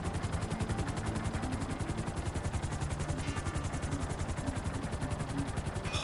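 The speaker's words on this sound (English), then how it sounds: "park the chopper" A helicopter in the video game GTA 5 hovers with a loud, steady rhythmic rotor chop and engine drone running evenly throughout, no voices.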